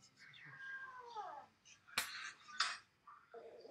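A black cat meows close by, with a couple of sharp higher-pitched bursts following, in an indoor setting with a person speaking softly around it.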